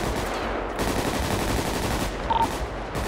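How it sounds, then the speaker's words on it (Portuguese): Gunfire in a GTA 5 roleplay game, a dense continuous burst of rapid automatic shots filling the whole stretch, loud and steady with slight peaks near the end. "Tiro."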